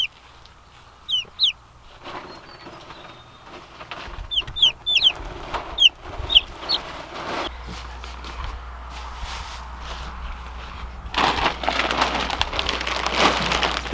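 Tiny young chicks peep in short high chirps inside a portable chicken coop, bursts of calls scattered over several seconds, followed by rustling and a steady rushing noise later on.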